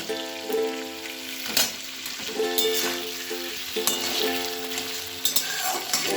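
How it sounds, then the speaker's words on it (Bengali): Prawns, shells half left on, fry lightly in oil for a Bengali malaikari, a close steady sizzle with scattered pops and stirring clatters throughout, no voices. "হালকা করে একটু এপিট এপিট করে ভেজে নেব"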